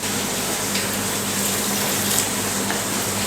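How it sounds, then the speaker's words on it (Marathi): Half a bowl of water pours steadily into a pot of sugar, a continuous even splashing rush that holds level for a few seconds with no talking. "त्याच वाटीने मोजून यामध्ये अर्धी वाटी पाणी घालायचं आहे"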